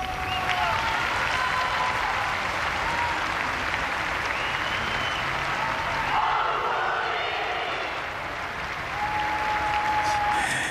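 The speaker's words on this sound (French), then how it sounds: "Vous avez entendu la foule crier auguri, ce qui veut dire en italien tous nos vœux." Large crowd gathered for the Angelus on 26 December applauding steadily and shouting good wishes, a continuous roar of clapping and voices that lasts throughout.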